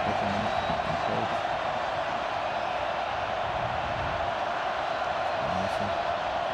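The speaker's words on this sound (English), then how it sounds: "Fans cheering, happy." Football crowd at an Argentina vs Ecuador World Cup qualifier filling a stadium with a steady, distant roar and murmur, with faint swells of cheering and commentary voices low underneath.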